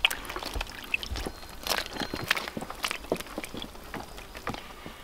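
Cheese curd for burduf cheese being lowered into cold water, with soft splashes, trickles and dribbling water sounds close by, fairly quiet, with no talk.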